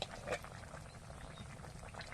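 Shukto, a Bengali mixed-vegetable curry, bubbling in a pot, a steady close simmer with soft, continuous popping and gurgling at low level, with no voices.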